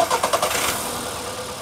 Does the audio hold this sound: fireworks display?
no